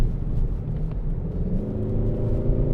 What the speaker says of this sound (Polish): Wtedy generowany jest sztuczny dźwięk do środka.